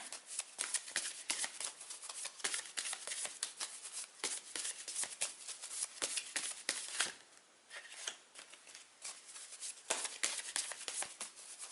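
Tarot cards being shuffled by hand, a quiet, close run of rapid riffling and flicking bursts with brief pauses, continuing for about twelve seconds.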